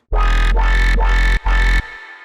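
A loud, buzzy Serum 2 synth bass, raised three octaves, plays four quick repeated notes with a bright, high edge, then a faint sustained tail trails off.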